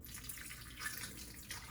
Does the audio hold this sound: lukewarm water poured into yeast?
yes